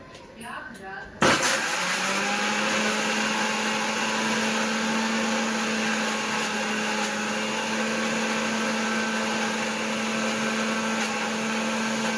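A mixer grinder grinds cut guava for a chutney, starting abruptly after a brief moment and running as a steady, loud motor whine and churn throughout.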